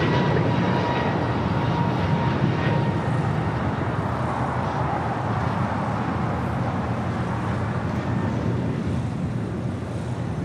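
An American airliner lands on runway 25 left at Los Angeles International Airport, its engine roar a loud, steady, broadband rumble that holds for the whole stretch, mixed with wind buffeting, and no talk.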